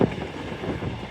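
A Class 221 Voyager, four-car unit 221144 on a Birmingham New Street to Newcastle service, rumbles past at York as a steady, fairly loud broadband roar of wheels and wind with no voices.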